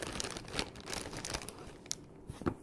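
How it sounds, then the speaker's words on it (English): Plastic crinkles and rustles in quick, uneven bursts, close and fairly quiet, with a few sharper crackles near the end. "I got it in this little plastic bag."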